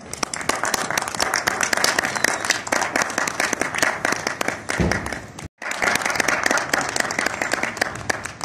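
Applause from a concert audience at Alhamra in Lahore welcomes classical musician Nadeem Riaz Malik, dense sustained clapping that cuts off briefly before resuming just as full.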